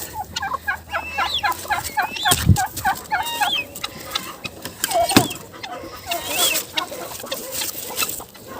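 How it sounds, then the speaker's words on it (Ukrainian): A broody hen clucks in a backyard garden, a run of repeated rhythmic clucks and short calls at close range, with a few louder bursts and faint voices in between. "А що ти квокаєш? Ти що, знову хочеш бути мамою?"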